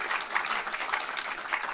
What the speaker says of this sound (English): Hands up and cheering.